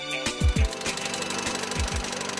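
Hyundai rally car at the Canadian Rally Championship, its engine knocking from a cracked piston: loud, irregular heavy thuds over a steady mechanical rumble, close and with no talk.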